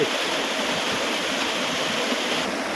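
Cold, clear mountain stream water rushes steadily on the Jayanti Mahakal trek, a loud, even broadband wash that runs alone and without pause.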